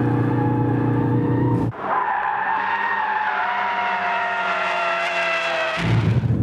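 A Ford Focus RS held in a smooth drift in its drift mode, engine droning loud and steady with rising pitch and tyres scrubbing throughout, briefly dipping then surging again near the end.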